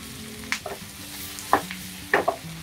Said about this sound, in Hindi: तो ये बहुत अच्छे से फ्राई हो गया है और ये बिल्कुल तैयार है।